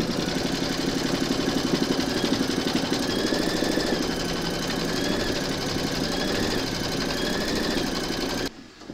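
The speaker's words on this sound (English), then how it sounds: "Pop your hoop into your machine and stitch round number three" Embroidery machine stitching an applique round on a skeleton design hooped with two fabrics, a steady rapid needle chatter over a constant motor hum that runs without a break, then drops off abruptly near the end.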